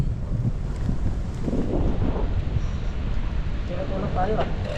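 Steady headwind rush buffets the microphone during a night ride on a Foxter FR1800 motorcycle, with a low engine rumble underneath and a voice briefly speaking near the end.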